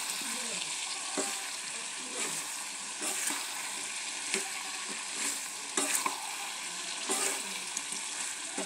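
Pumpkin fries with dried fish in a pan, a steady close sizzle with occasional stirring scrapes and spatters, continuous throughout with no talking.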